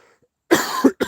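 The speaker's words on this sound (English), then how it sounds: "His cough." A man coughs twice in quick succession, close and fairly loud, after a moment of near silence.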